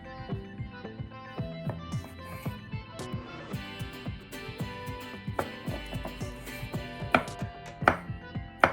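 A knife dices small pickled cucumbers on a cutting board for a Mediterranean salad, in a quick, steady series of close, crisp chops with light music playing underneath.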